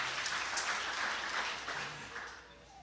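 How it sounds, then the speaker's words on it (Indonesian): A crowd claps enthusiastically, a broad roar of applause that holds steady, then begins to fade toward the end. "tepuk tangan yang meriah bagi Tuhan Yesus"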